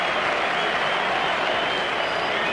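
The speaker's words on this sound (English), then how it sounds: "a pretty thrilled crowd here at the MCG" A thrilled cricket crowd at the MCG applauds steadily after a wicket, a dense, distant wash of clapping and cheering that holds evenly throughout.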